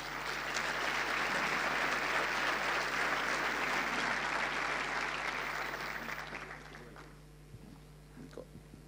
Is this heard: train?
no